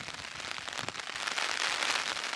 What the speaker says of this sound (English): It's hard filming in the rain.